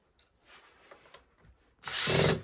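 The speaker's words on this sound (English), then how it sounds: "Sounds like I might need a new bit here on this drill soon." A power drill drives a screw into a kayak storage rack, first in a few soft, uneven bursts, then in one loud, steady whir near the end.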